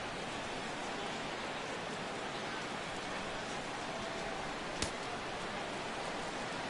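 Steady rain falls in the MLB The Show 17 baseball video game, a soft, even hiss throughout with one brief click near the end, faint and continuous with no talk.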